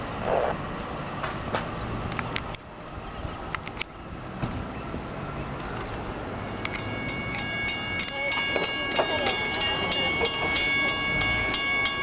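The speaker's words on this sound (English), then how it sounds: "another M7. The diesel train, mine is the diesel." An M7 diesel commuter train on Long Island Rail Road tracks at Little Neck passes by in a steady broadband rumble with rail clatter and a high whine building over the second half, close and continuous.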